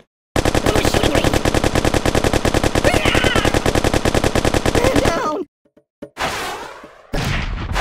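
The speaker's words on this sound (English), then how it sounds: "Who's shooting me?" Rapid automatic gunfire in the mobile game Kick The Buddy: a dense, loud, unbroken machine-gun rattle for about five seconds, then short gaps and a couple of harsher noisy bursts, with no voices.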